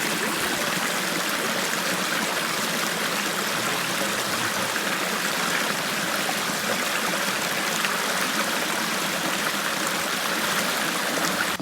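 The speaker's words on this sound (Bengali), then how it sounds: "জর্জিরি যাওয়ার পথে এরকম অসংখ্য পানির স্রোত দেখতে পারবেন, খুবই সুন্দর সুন্দর।" Water of a small stream runs steadily along a forest trail toward the Jharjhari waterfall at Sitakunda, a close, continuous broadband rushing and trickling with no voices.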